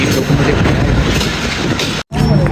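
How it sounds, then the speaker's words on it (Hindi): The Hazara Express rolls into Golra Sharif Junction with a loud, close rumble and rattling carriage clatter. The noise is heavy and continuous, with a brief cut near the end before the roar returns. "तो गोल्डा शरीफ जंक्शन पहुँच गई है ट्रेन"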